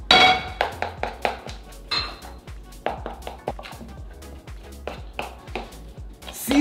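Beef, breadcrumbs and onion mixed by hand in a bowl: a run of sharp, close clinks and knocks of utensil on dish in an irregular rhythm, with softer squelching and rustling between them.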